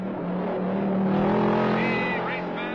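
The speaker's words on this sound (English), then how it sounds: "Coming out on the track, car number 6, driven by Hawk Finney. And look at this boy go" A race car, number 6, runs on a track, its engine a loud, steady near drone that rises in pitch toward the end, with a voice present beneath it.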